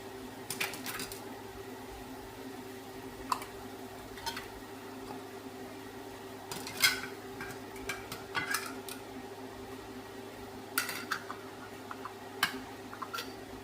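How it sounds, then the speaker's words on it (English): Metal canning jar lids and rims handled with a magnet tool during water bath canning of strawberry jam: scattered light clicks and clinks, a few sharper taps, over a steady low hum. "I'm just going to grab my lids, put them on."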